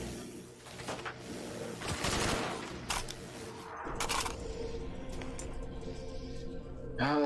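Gunfire in Black Ops III Custom Zombies, with sharp shots and bursts scattered through a busy game mix and a louder crack at the end; a voice speaks briefly in places.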